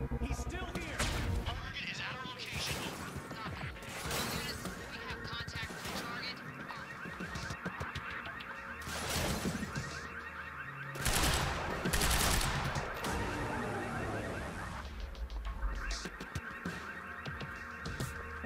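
Gunfire from enemies in the video game Quantum Break, with sharp bursts of shots scattered through busy game sound, alongside honking and other effects and a voice talking.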